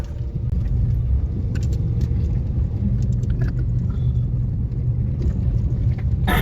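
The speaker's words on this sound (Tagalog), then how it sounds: "Konting apak ko lang sa accelerator, sumisipa siya." Diesel Honda CR-V engine pulling hard under acceleration on an uphill road, a steady deep rumble and road noise holding constant throughout with no talk.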